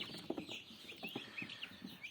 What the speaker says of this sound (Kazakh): күрке тауықтың балапандары